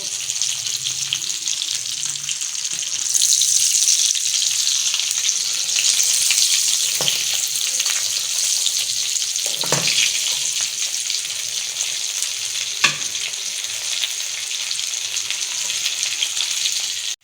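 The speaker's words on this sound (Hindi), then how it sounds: "ये फिश हो रही है फ्राई। स्लो स्लो आंच है, मीडियम फ्लेम है, मीडियम टू लो।" Fish frying in a pan over a medium-low flame, a steady close sizzle and crackle running throughout, with a few soft clinks and stirs along the way.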